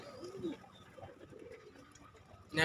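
A pair of racing pigeons coo softly, murmuring in short low phrases, with a brief rustle or flutter at the end.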